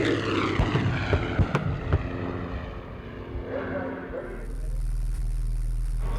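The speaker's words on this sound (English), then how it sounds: "A-26. Look at that thing hustle." Douglas A-26 Invader propeller aircraft passing by, its engine drone swelling and fading with wind buffeting the microphone, under a voice talking.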